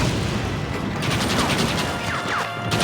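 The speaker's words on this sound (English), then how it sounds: "¡Abran fuego!" Gunfire in the Red Dead Redemption video game comes as a steady fusillade of rapid shots, with a brief lull partway through before the firing resumes loudly.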